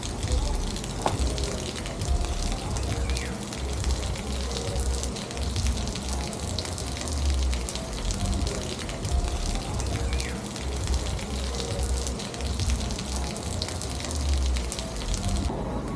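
Heavy rain at a beach resort hotel pours down steadily, a dense continuous hiss of falling water and splashing with no breaks, fairly loud and close throughout.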